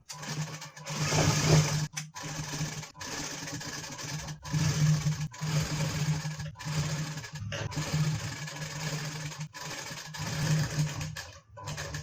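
A sewing machine stitching a bridal blouse of peacock-green saree fabric, running in short loud bursts of rapid needle clatter separated by brief pauses.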